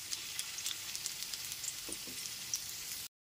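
Diced potatoes fry in oil over a medium gas flame, giving a steady, fine sizzle with scattered small pops and crackles, close by and fairly quiet, before cutting off abruptly.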